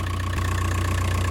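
A VW 1.9 TDI PD130 diesel engine idles steadily, a low continuous rumble with an even throb, close and moderately loud.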